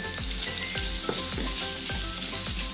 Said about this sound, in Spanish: le echamos la carne. Y la vamos a dorar un poquito